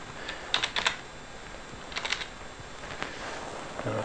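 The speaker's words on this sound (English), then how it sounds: "So in here I'm going to type some bytes." Light, quiet clicking of keys on a computer keyboard as bytes are typed, coming in a few short clusters of taps separated by pauses against a faint background hiss.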